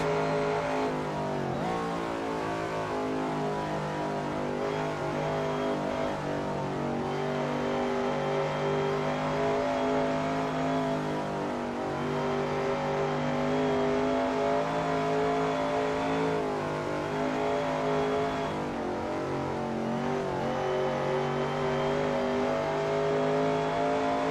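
A vintage Maserati race car engine in Assetto Corsa at classic Spa Francorchamps roars steadily and loudly throughout, with rising and falling revs as gears change, other racing cars faintly mixed in.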